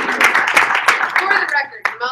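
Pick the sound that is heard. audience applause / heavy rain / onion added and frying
audience applause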